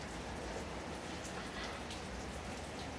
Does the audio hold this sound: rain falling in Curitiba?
yes